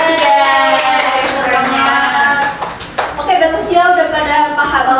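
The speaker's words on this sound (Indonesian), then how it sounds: "Oke, tepuk tangan dong buat mereka bertiga" A classroom full of students bursts into steady applause for three classmates, a loud, close patter of hands that fades briefly then picks back up, with a voice speaking over it.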